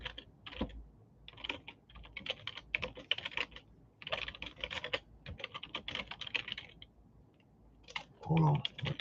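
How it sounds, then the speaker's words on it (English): Rapid typing on a computer keyboard, close and crisp, with quick irregular bursts of key clicks separated by short pauses; a brief voice comes in near the end. "hold on, my typing ain't all that great"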